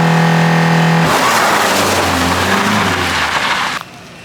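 A JDM project car launching hard on slippery leaves with tires that have gone flat, the engine revving up with a sudden surge as the tires spin and scrabble, loud and close, no talk, fading out at the end.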